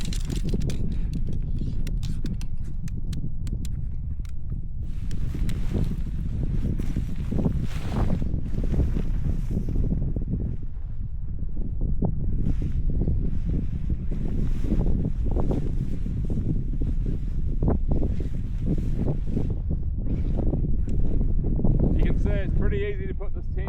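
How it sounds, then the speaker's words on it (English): Strong breeze gusting across a snowy campsite during a blizzard, rumbling microphone wind noise and rustling tent gear, while someone talks over much of it. "It's not too windy, but there is a pretty strong breeze."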